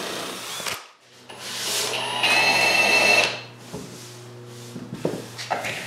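Power screwdriver drives metal screws into cedar patio table boards, a close whirring burst of about two seconds that rises in pitch, with shorter bursts and small knocks of wood being handled afterward.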